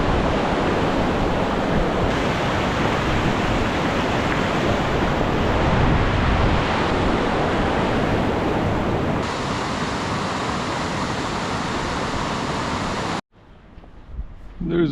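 Loud, steady roar of river rapids suited to rafting, a broad continuous rush of water that fills the scene close by for about thirteen seconds before cutting out abruptly into near quiet.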